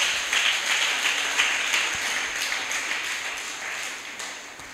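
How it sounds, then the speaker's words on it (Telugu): A church congregation at Sunday worship claps their hands together in a steady, fairly loud burst of applause that holds across the whole moment, with no talk over it. "అందరం ఒకసారి చప్పట్లు కొట్టి దేవుని నామాన్ని మహిమపరుద్దామా?"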